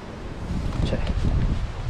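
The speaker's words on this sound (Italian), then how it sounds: "Un vento della Madonna" Strong wind gusts rush through a mixed Turkey oak forest, a broad roaring sweep with rustling leaves and buffeting against the microphone, rising briefly near the middle.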